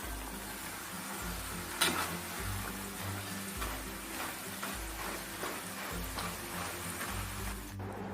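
French fries frying crisp in hot oil, a steady soft sizzle and bubbling hiss with faint stirring and shuffling sounds, no talk over it.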